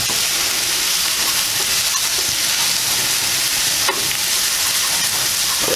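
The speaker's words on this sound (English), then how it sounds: "So we break up the sausage a little bit." Pork sausage sizzles steadily in a hot pan while a spoon breaks it up, a dense continuous frying hiss close by with faint scraping and a brief clack near the end, no talking.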